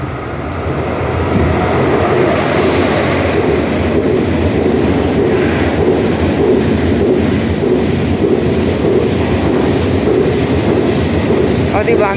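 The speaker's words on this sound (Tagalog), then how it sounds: "Dadaan na train, pero hindi daw siya mag-stop." A KTX high-speed train passes through a station without stopping, making a loud, sustained rushing roar with rail rumble that builds quickly and holds steady throughout.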